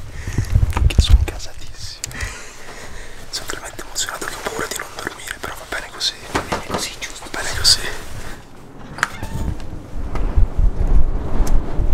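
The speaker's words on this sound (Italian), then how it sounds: "Tira un vento" Strong mountain wind near a summit in France buffets the microphone in gusty roars and rumbles, with whispered voices talking through much of it.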